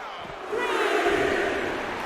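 Wrestling crowd in the WWE 2K25 video game, a swelling roar of cheering arena voices that rises sharply and holds loud, without commentary over it.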